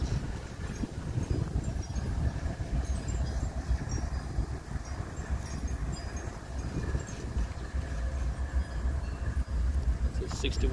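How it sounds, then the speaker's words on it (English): A BNSF freight train led by an ES44AC locomotive rumbles past steadily in Texas, a low continuous roar of rolling wheels with some wind noise, fairly distant and even. "Here comes our first train."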